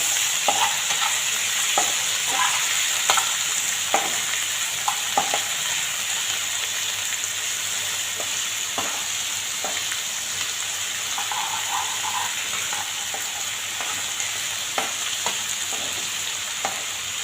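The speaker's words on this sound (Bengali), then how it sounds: "কুমড়ো আর আলু ভাজা ভাজা হয়ে গেছে" Pumpkin and potato pieces, seasoned with salt and turmeric, fry in a pan with a steady, even sizzle, broken by occasional sharp clicks and scrapes of stirring, with no talking.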